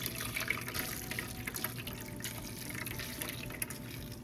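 Hot water splashes and trickles steadily into a pot, a continuous close pouring sound with small drips, no talking.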